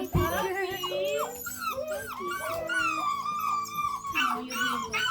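A litter of puppies whimpers and whines in high, wavering cries, several voices overlapping close by in near-continuous bursts during bath time.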